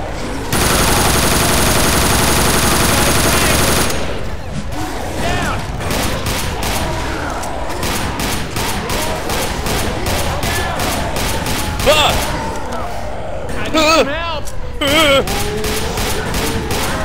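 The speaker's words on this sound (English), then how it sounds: "Shoot the damn tank!" Rapid, sustained automatic gunfire is aimed at the Tank in the Left 4 Dead 2 video game. Dense overlapping shots from several weapons crackle continuously at close range, following a steady hiss at the start, with voices and game effects mixed in.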